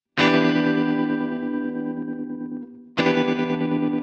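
Guitar played through a Sequential Pro 2 synth as a square wave with the slew rate at zero: a hard-edged, buzzy sustained note rings out, fades slightly, then a fresh loud strike at about three seconds, no voices.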